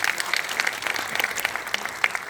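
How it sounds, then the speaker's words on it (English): An auditorium audience breaks into dense, sustained applause, a continuous patter of many hands heard clearly with no talking over it. "I'm going to ask you to break that silence by giving yourselves a round of applause."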